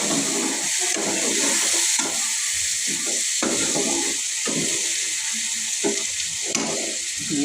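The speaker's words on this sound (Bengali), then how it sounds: "কাজু, পোস্ত, চার মগজ পেস্টটা দিয়ে দিলাম। এটা একটু নাড়াচাড়া করে" Cashew, poppy seed and melon seed paste sizzles and is stirred in a hot pan, a steady frying hiss with soft intermittent scraping strokes, close and alone without talk.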